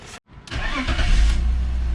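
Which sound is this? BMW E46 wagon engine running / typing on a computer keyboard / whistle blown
BMW E46 wagon engine running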